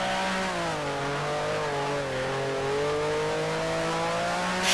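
Race car engine in Grand Prix Legends, a 1965 German Grand Prix machine, accelerating out of a chicane: a loud, close, steady engine note rising gradually in pitch as the throttle opens, with no talk over it.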